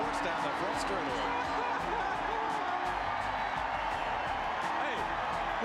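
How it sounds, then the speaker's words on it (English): A race crowd cheers and roars at Martinsville Speedway, a dense, steady wash of noise throughout with a commentator talking over it. "listen to the crowd"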